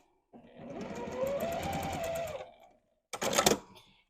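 A Mini Quilter sewing machine stitches quilt pieces in a steady, close whirring run of about two seconds, followed after a pause by a short, quicker burst of stitching.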